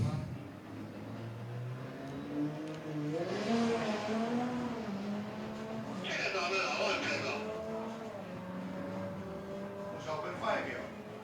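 A BMW drag racing car makes a qualifying run in the open bracket, its engine revving and rising in pitch as it accelerates away, heard at moderate distance beneath continuous commentary from a man.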